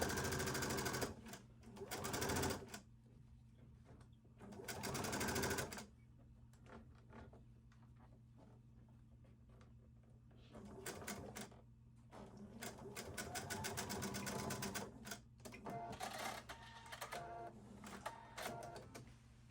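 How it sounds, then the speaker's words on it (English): A sewing machine stitches a Hawaiian shirt seam at a 5/8 inch allowance, running in several separate bursts of fast, even whirring and ticking, with quiet pauses between runs. "stitch with 5/8 inch seam allowance, and removing the pins as you sew"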